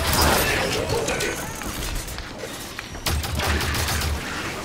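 Gunfire from allied soldiers in the video game Halo 5: Guardians, loud continuous bursts and rattling shots crowding over one another, with a brief lull partway through before the barrage surges again.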